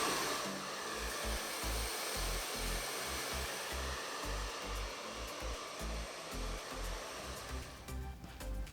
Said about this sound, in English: So Gary has rough dried the hair right now just to take out some of that excess moisture